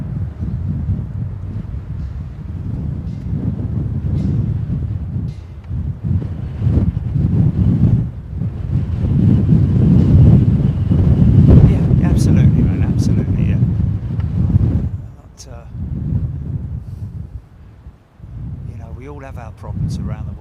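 Strong headwind at London Heathrow Airport buffets the microphone in loud, sustained rumbling gusts that swell and ease over about twenty seconds, briefly dropping before picking up again.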